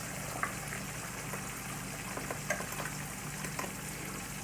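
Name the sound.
gnocchi dropped into a pot of boiling water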